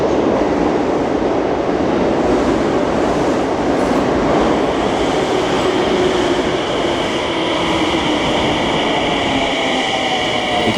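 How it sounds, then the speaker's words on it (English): A Tsukuba Express commuter train pulls into a station during the morning rush, a loud, continuous rolling roar of wheels and motors with a rising high whine as it draws near and slows. "All right, here comes our train."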